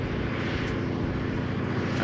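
A seaplane engine drones steadily as the aircraft comes in to land on water, a continuous even roar from a moderate distance with no pauses.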